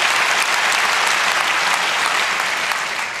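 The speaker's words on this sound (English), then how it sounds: "I appreciate your pandering applause" Audience applause at a hacker conference talk, dense and even clapping from a large crowd filling the whole stretch, fading slightly toward the end.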